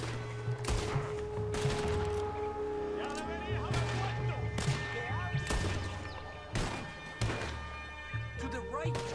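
Repeated gunshots from a Western-style game set in Red Dead Redemption, a rapid fusillade of loud cracks and thuds spread across the clip, mixed with game sounds and voices talking over them.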